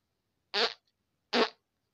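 Two short, close farts sound about three-quarters of a second apart, each a brief buzzing burst with silence around them.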